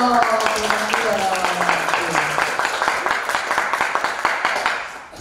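A group of students at a school council training session claps hands together in a quick, uneven burst. Sustained music or voices sit underneath at the start, and the clapping is fairly close and continues throughout.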